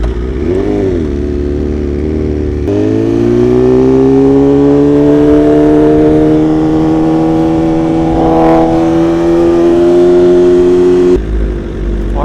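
A V4RR sport motorcycle engine revs through its exhaust and holds a steady, rising drone, loud and close, with a brief throttle blip near the start and the engine cutting back at the end.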